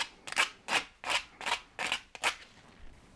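Coarse-grit sanding along the edge of a circuit-board pendant, heard as six steady, evenly spaced rasping strokes close by, with a short quiet tail and no talk.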